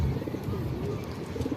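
Shahjahanpuri pigeons coo softly and steadily in a pigeon enclosure, a low murmuring burble close by with no other sounds standing out.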